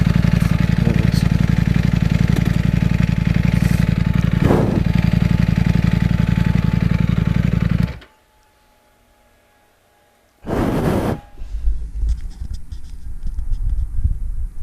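A Ducati Panigale V4S motorcycle engine runs loud and steady up close, then cuts out into near silence for a couple of seconds before a burst of noise and the engine picks back up.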